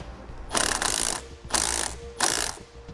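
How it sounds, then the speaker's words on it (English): A ratchet tightening a bolt and nut on a battery cable during a battery disconnect installation on a 2018 Chevrolet, heard as three close bursts of rapid clicking with short pauses between them. "tighten down the bolt and nut."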